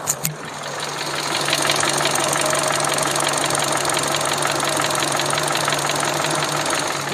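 A Kia Rio's 1.4-litre engine idles with a light, continuous ticking rattle. Two brief knocks come at the very start, then a close, steady hum holds throughout.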